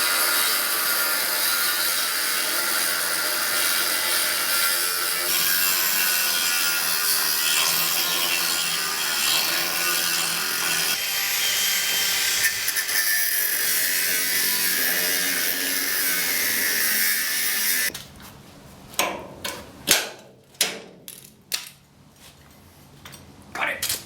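A trailer part for a mini toy hauler is cut out with a loud, continuous, close grinding rasp that runs steadily, then stops, leaving a few sharp knocks and clanks.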